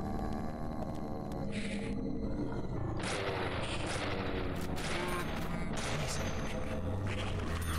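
Sustained game gunfire at a shooting range in Deadly Premonition, a dense stream of shots and booms running loudly through the whole stretch without pause.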